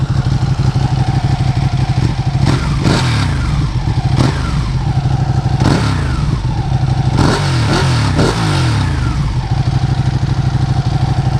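Ducati 959 Panigale sport bike revving close by, a rumbling idle broken by several sharp throttle blips that rise and fall in quick bursts, spaced unevenly across the stretch.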